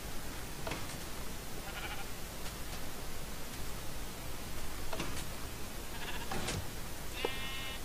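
Several short sheep bleats in Minecraft come in scattered bursts over a steady hiss of background noise, each cry brief and moderately loud.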